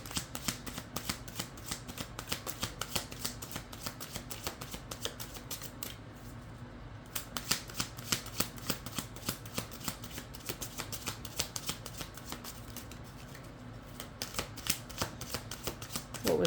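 Playing cards shuffled continuously and drawn, a steady close run of soft papery riffles and flicks throughout, fairly quiet, with no talking.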